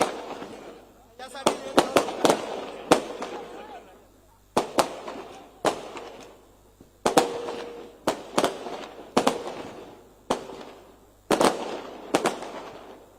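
At an election rally, the crowd sets off firecrackers in repeated crackling bursts of sharp pops that come in clusters every couple of seconds, mixed with loud crowd noise and a speaker's voice.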